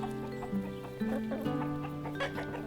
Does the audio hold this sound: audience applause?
no